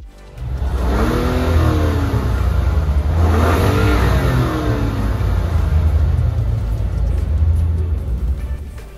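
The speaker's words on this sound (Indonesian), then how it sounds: "memang mesin inline 6 halusnya luar biasa ya" A Mazda CX-60 inline-six, a large engine with all-wheel drive, revs up twice in smooth, loud sweeping pulls that rise and fall over a steady low rumble, with no talk.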